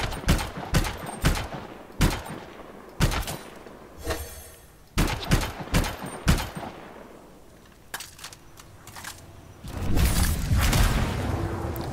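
Sniper rifle fire in the video game Anthem: sharp, loud gunshots ring out in quick irregular bursts, pause, then snap again, followed by a rumbling roar near the end.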